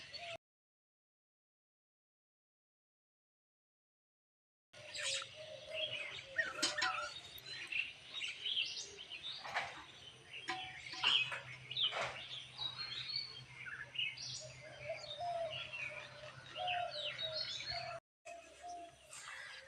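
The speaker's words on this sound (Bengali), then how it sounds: "তো চারিপাশটা শোনো কত সুন্দর পাখির ক্ল হয়" Birds chirp and tweet outdoors in the morning, several calls overlapping with a soft cooing underneath, after a stretch of near silence at the start.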